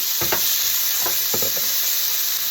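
Cauliflower frying in a pan for Sicilian bucatini, a steady close sizzle and hiss with a few soft knocks and stirring sounds of the pieces being moved.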